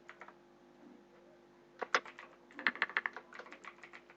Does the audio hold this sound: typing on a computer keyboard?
yes